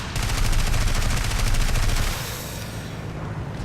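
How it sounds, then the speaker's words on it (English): Rapid machine-gun fire from a German fighter plane in the War Thunder video game, a dense rattling stream of short bursts that is loudest for the first two seconds, then continues slightly softer to the end. "You can see I'm actually firing in bursts"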